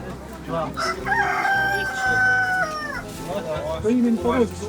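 A rooster crows with long, drawn-out calls amid market chatter, with hens clucking nearby, at a market where chickens are sold.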